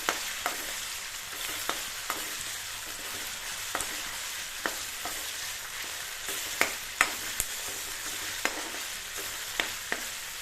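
Masala is frying in a pan for fenugreek chicken curry. A steady close sizzle runs throughout, with sharp spatula scrapes and taps at irregular intervals and no voices.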